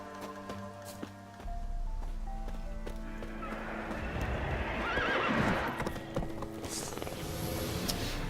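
Geralt's horse Roach in The Witcher 3, a whinny followed by hooves clip-clopping at a gallop, fairly quiet and close, with game ambience behind.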